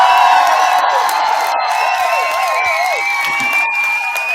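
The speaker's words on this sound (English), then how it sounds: "Let me give him some more applause." A crowd cheers, whoops and applauds for Matt Rizzetta at a Brooklyn soccer gathering, loud and sustained with high shouts over a dense wash of clapping.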